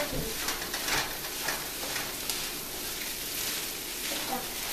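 Fried rice being stirred and tossed in a hot pan, a continuous soft sizzle with scraping stir sounds throughout, moderately close and fairly quiet.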